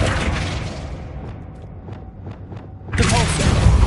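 A Flipendo spell cast in Hogwarts Legacy: after a murky stretch of faint ticking and shuffling, a sudden loud, full rumbling blast bursts in near the end and keeps going.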